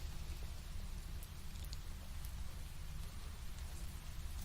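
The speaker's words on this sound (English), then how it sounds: "It's really raining." Rain falls as a faint, steady hiss with a soft patter of drops, continuous and even throughout.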